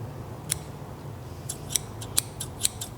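Scissors snipping dead leaves and old spent flowers off a potted houseplant such as an anthurium, monstera or oxalis, with about eight sharp, quiet clicks spread unevenly over a low room hum.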